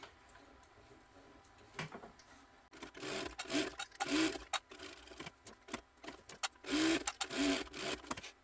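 Sewing machine stitching a seam about a quarter inch in while making a bag, starting with faint rubbing and handling, then bursts of whirring stitching with brief pauses, quiet and close.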